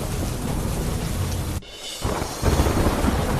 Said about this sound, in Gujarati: જામગઢકા ગામમાં પડ્યો ધોધમાર વરસાદ।